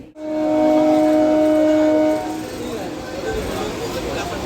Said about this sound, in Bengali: আমাদের ট্রেন ছেড়ে দিল শিয়ালদা থেকে এই মুহূর্তে